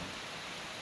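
Steady rain falling, a dense even hiss of drops filling the whole short stretch at moderate level, with no voices over it.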